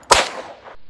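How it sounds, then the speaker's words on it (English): A single gunshot, a sharp loud crack that fades through a short decaying tail, heard alone at shooting practice with bowling pins as targets. "you want to shoot the shotgun one more time?"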